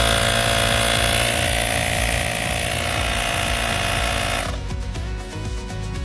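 A Mailtank SH407 portable electric tire pump runs with a loud, buzzy mechanical rattle, close up and continuous, its tone dropping and roughening near the end as the motor changes load.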